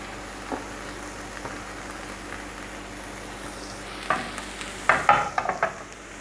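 Onions stir and fry in a pan for spring roll stuffing, a soft continuous sizzle under occasional clinks and scraping strokes that grow busier and louder toward the end.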